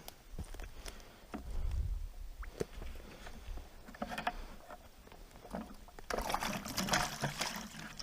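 Water being scooped up by hand outdoors while fish traps are checked: scattered knocks and light splashes, then a louder burst of sloshing and pouring near the end.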